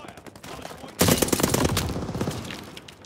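Gunfire from the video game Call of Duty: Vanguard erupts suddenly after a quiet second: a loud, dense burst of overlapping automatic shots that keeps rattling and slowly thins out.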